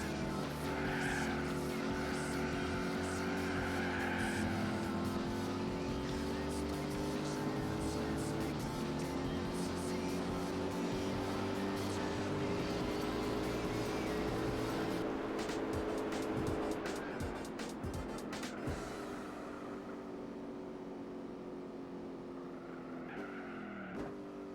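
A Dodge Viper race car in Gran Turismo 4 revs and shifts through gears with rising engine whine, then tyres squeal and skid near the end, while a person talks over it.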